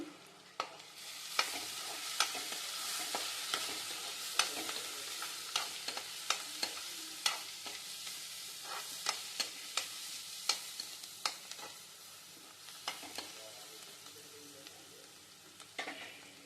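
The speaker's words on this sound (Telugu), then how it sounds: "ఇప్పుడు ఆనియన్స్ వేగిపోయినాయండి" Onions fry in a pan with salt and turmeric for street-style batani chaat under a soft continuous sizzle, punctuated by regular sharp clacks of a spoon stirring against the pan. The sound is close and quiet, with no talk.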